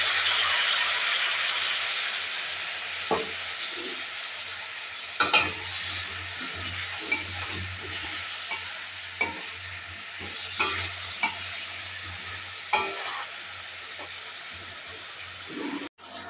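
Chopped kohlrabi sautés in a hot pan, a steady close hiss of frying with occasional scrapes and clinks of a spatula stirring through it, continuing without speech.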